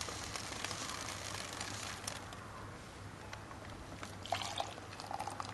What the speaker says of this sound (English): Now I'll pour it out.